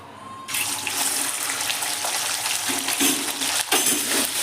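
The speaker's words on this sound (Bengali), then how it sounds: "আমি প্রথমে দিয়ে দেবো নুন দিয়ে চিকেনটা একটু ফ্রাই করে নেব।" Chicken pieces with salt dropped into hot oil, bursting into a loud, steady hissing sizzle after a short quiet moment, with small spattering pops over the constant fry.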